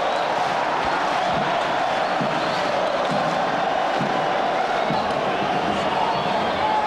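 Fluminense supporters roar and celebrate in the stands of Estádio da Cidadania in Volta Redonda after a goal against Avaí in the 2010 Brazilian league, a dense, steady crowd din with scattered shouts throughout.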